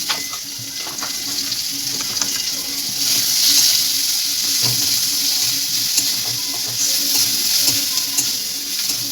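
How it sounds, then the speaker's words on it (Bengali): Turmeric and chili powder fry in a pan with a steady, close hiss and sizzle, punctuated by light stirring scrapes and clinks throughout. "ভালো করে ভেজে নেব।"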